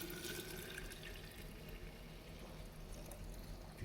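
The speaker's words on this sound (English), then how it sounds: "So I'm just gonna pour it off into this half-gallon jug." Honeydew melon juice poured from a container into a half-gallon jug, a steady watery trickle and splash running continuously, fairly close, with a slight change near the end.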